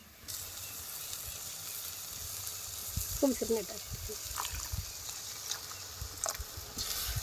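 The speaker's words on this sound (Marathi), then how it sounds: "त्यात आपण आता थोडस पाणी घालून घेऊ" A short splash of water hits sizzling masala in a pan, followed by steady frying hiss and a few soft stirring sounds.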